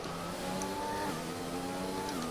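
F1 car engine in the racing game F1 2020 at the Russian GP, a steady high whining drone with shifting pitch as gears change during an overtake, close and sustained.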